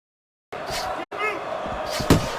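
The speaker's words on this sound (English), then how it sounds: "Good combination punch by David Haye right there" Punches landing in a heavyweight boxing video game, David Haye against Moses Itauma: a couple of heavy thudding impacts, the last near the end, under continuous commentary from game announcers and crowd noise.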